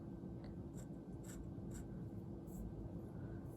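Faint scratchy strokes of a Himalaya Ultra Flex ebonite fountain pen from Fountain Pen Revolution moving across paper, a handful of brief soft scrapes over a steady low background hum, with no talking.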